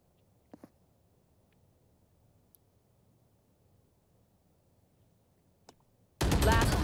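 Gunshots in the tactical shooter Valorant: near-silence broken by a couple of faint, distant pops, then a sudden loud burst of close gunfire that cuts in and fills the final half second.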